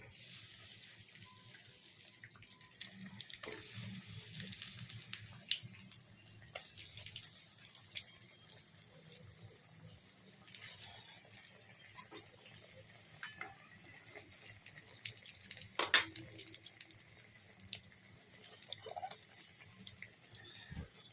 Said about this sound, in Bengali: এই যে আমার এখন আলুর চপগুলো ভাজা হচ্ছে, তোমরা দেখতেই পাচ্ছ।